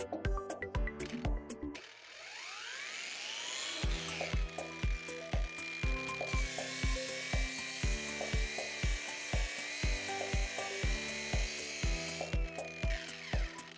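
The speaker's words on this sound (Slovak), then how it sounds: "Ďalej pokračujem brúsením s kotúčom 3M Cubitron 2 so zrnitosťou 60." A Parkside PWSAP 20 cordless angle grinder fitted with a 3M Cubitron 2 grit-60 disc whines at low speed, with repeated rhythmic clicking bursts and a steady motor tone rising in pitch partway through, close and loud.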